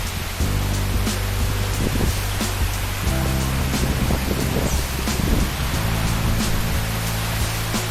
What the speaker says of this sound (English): let's have a sneak peek at the raining video which I captured staying in my home garden